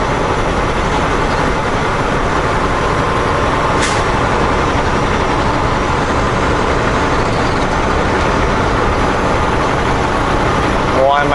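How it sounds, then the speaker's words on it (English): A semi truck engine in 17th gear at 1300 RPM drones steadily at a constant pitch throughout, loud and close, with road rumble and a brief hiss partway through. "the truck is in 17th gear and I'm running at"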